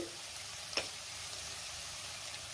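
Capsicum sautéing in a pan for paneer masala gives a steady, quiet sizzle with one brief tick near the start.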